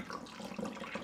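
Liquid pours steadily into a jar, a short continuous splashing trickle heard close and alone.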